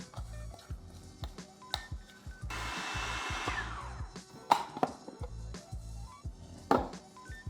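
A food processor blends chickpeas for falafel with quick repeated chopping pulses. A sustained whirring burst runs in the middle, with scraping and tapping against the bowl between runs, close and moderately quiet.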